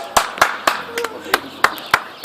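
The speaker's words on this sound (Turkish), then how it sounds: "Alkışlayın" Sparse, separate hand claps, about eight sharp strikes spaced irregularly, at an informal indoor award moment with a low hum underneath and no crowd applause.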